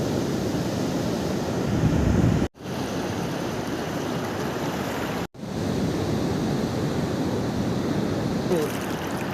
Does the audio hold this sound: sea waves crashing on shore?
yes